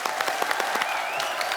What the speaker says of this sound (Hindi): जोरदार तालियां अनूप जी के लिए